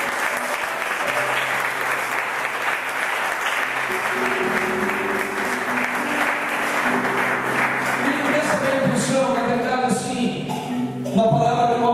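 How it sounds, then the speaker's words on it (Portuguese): A church congregation applauds continuously for the full stretch, a dense, steady clapping close and loud, with a voice speaking over it and some musical tones beneath. "Você pode aplaudir a palavra de Deus em nome de Jesus?"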